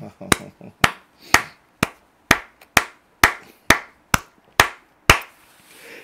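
A church congregation at a prayer meeting claps in steady unison, about ten sharp, crisp claps evenly spaced roughly every half second, loud and close, with a faint murmur of voices beneath.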